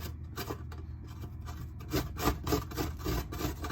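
Fresh ginger being grated by hand for ginger lemon tea, a quiet close scraping and rasping in uneven strokes, with no talking.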